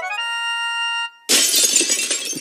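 A steady high-pitched whistle tone is followed by a brief silence, then a glass case shatters in a loud burst with tinkling shards scattering for a second.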